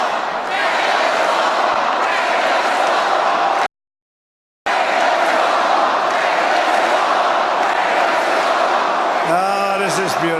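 A huge roaring crowd of about 18,000 people at a political rally near one in the morning, a steady loud wash of cheering and shouting broken by a brief cut to silence, with a voice cutting in at the end.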